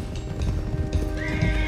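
Horses in the Red Dead Redemption 2 video game neigh loudly and close over quick clip-clopping hoofbeats, a shrill whinny rising near the end.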